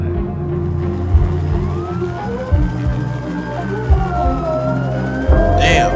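A wailing siren rises and falls over a heavy, thumping bass beat, steady and fairly loud throughout.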